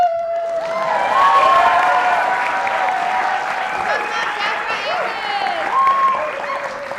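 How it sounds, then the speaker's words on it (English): A crowd cheers and applauds steadily, with whoops and shouts rising over continuous clapping throughout. "please cheer extra loud"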